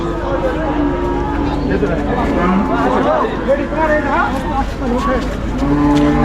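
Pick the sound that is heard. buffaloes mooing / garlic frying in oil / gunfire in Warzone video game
buffaloes mooing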